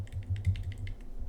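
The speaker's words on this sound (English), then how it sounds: "That's hard to type in." Quick, light taps on a computer keyboard rattle in an irregular rhythm, close by and fairly quiet against a low background hum.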